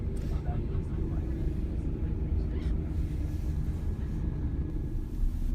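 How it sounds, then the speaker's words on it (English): Busy London street traffic, a dense continuous rumble of engines and passing vehicles close by, with people talking over the steady din. "Traffic everywhere."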